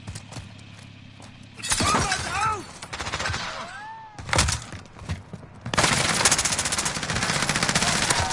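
Video game gunfire: rapid automatic bursts, loud and close, with a shattering crash and scattered shots between bursts, ending in a long sustained volley.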